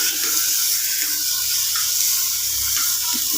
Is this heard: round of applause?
no